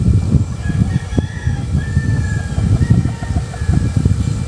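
A Boston sweater straight-comb gamecock crows in a farmyard, its call rising over a steady background of other fowl clucking and ambient noise, fairly close and loud.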